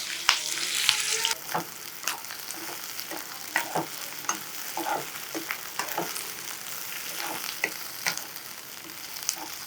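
Lengthwise-sliced onions and green chillies frying in oil in a pan for masala idli, a continuous soft sizzle with a brighter hiss at the start and frequent light clicks and scrapes of stirring throughout.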